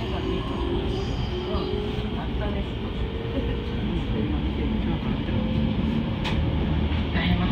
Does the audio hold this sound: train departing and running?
yes